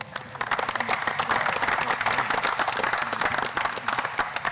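An audience at an outdoor Mayor's Night Out community event applauds the 5th District councilman, dense steady clapping that fills the whole stretch, loud and close, with a few cheers mixed in.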